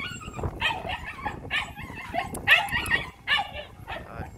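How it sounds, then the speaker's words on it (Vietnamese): A Phu Quoc dog at a Saigon kennel yips and whimpers in repeated short bursts, close by, with a few bow-wow barks mixed in. "Đây này mã số 15 của trại chó Phú Quốc Sài Gòn"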